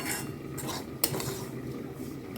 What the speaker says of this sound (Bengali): সুজিটা ভালো করে ভেজে নিতে হয়